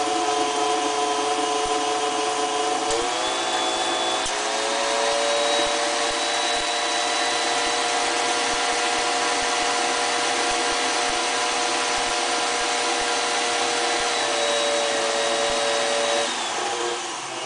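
An electric hand mixer whirs steadily as it beats a cream cheese filling with cinnamon for puff pastries, a continuous motor whine that shifts pitch briefly when the speed is raised, running alone without talk.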